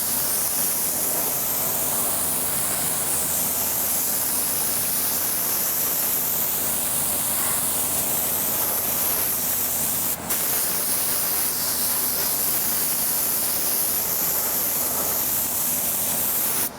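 An air blower in a workshop hisses loudly and steadily, a continuous broad rush of air that holds without pause for the whole stretch.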